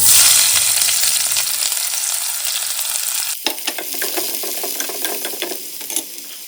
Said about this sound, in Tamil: இப்போ கட் பண்ணி வச்ச வெங்காயத்தையும் போட்டுடலாம்.